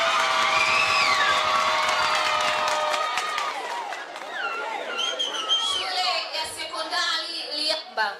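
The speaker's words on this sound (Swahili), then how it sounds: "Simama, piga makofi tuwatambue kama mko." Secondary school students at an academic showdown event clap and cheer as a crowd, loud and close for the first few seconds, then fading into scattered whoops and chatter.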